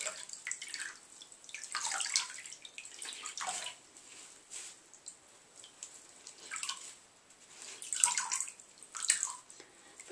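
Water is squeezed out of a brown dog's wet fur during an indoor bath, giving repeated soft splashing pours and drips in uneven bursts, close and moderately quiet, with no talking.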